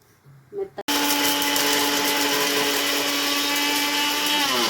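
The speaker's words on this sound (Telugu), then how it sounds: "ఇవన్నీ వేసి మిక్సీ పట్టుకుందాము." A mixer grinder whirs loud and steady as it grinds peppercorns, garlic and cumin for tomato pepper rasam, starting abruptly after a brief quiet moment and running without pause.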